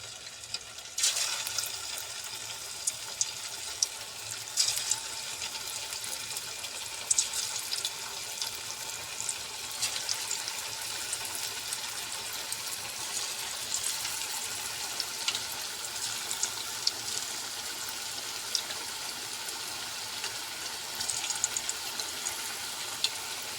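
Bitter gourd pakoda frying in a pan of hot oil, a steady soft sizzle and crackle running throughout with occasional brighter pops, moderately close and with no talk over it.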